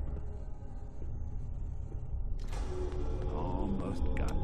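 A jammed door in Fallout 4 being forced open, with grinding metallic creaks and thuds building after a low rumbling start, growing louder and clattering toward the end.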